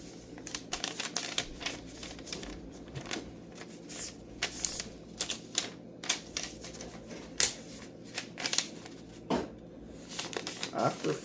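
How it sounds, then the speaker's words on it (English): Sheets of paper are folded point to point and creased for an origami monkey, with crisp crinkles, rustles and sharp creasing taps in an irregular, close-up pattern throughout. "First, we're going to fold point to point"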